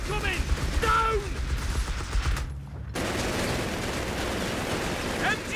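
Suppressive gunfire in Company of Heroes 3, dense bursts of machine-gun and rifle fire rattling continuously, with battlefield shouts over the din and a brief drop before the firing resumes.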